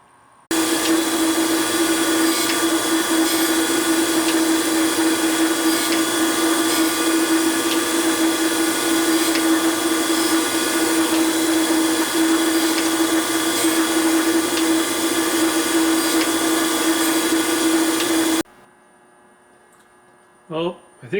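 An Accu-Finish grinder running with a steady, loud electric hum and whine for most of the time, then cutting off abruptly and leaving near silence with a couple of faint knocks.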